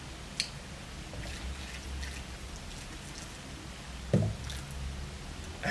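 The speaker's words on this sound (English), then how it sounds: "Now we add the boiling water." Boiling water is poured into a bowl of small sugary dough balls, giving a steady soft splashing, bubbling wash with a few sharper drips and knocks, close by and without talk.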